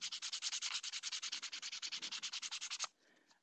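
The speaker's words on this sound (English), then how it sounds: "So I have a piece of 150 grit sandpaper here." Hand sanding of a PVC/Sintra foam armor plate with 150 grit sandpaper: a fast, steady run of about thirty back-and-forth rasping strokes, close and loud, stopping abruptly near the end.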